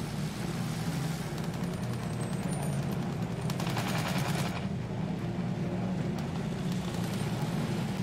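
Battlefield 1 gunfire, heard as rapid bursts of shots over a constant engine drone from a plane during the game's aerial combat.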